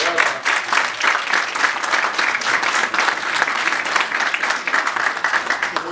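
An audience at a political party gathering applauds its secretary general, dense and loud clapping that holds steady and close for several seconds with no talk over it.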